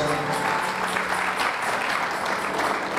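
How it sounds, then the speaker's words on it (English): A church congregation claps together in a sustained, steady round of applause, dense and fairly loud throughout, with faint voices mixed in beneath the clapping. "Give him a wonderful clap."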